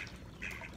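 Ducks on a lake marina at Lake Mead near Las Vegas, Nevada, giving brief, faint quacks over low water and outdoor background noise.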